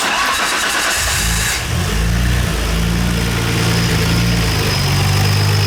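A Nissan Skyline R32 GTR's RB26 engine with a blown turbo cranks and catches, then settles into a loud, rough idle with a raspy, uneven drone, close by.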